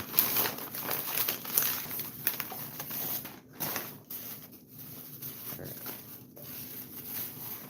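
Taped cardboard package being opened, with close, irregular crinkling, rustling and scraping of packaging material in uneven bursts and brief pauses.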